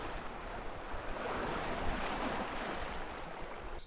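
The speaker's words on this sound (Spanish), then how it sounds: "Cuando estamos en el mar, el mar hace un sonido, y podríamos también catalogar ese sonido o tildar de rumor, el rumor de las olas." Sea waves murmur in a steady, soft wash of surf, a continuous broad rush that swells slightly mid-way, faint and distant with a hint of wind and no voices.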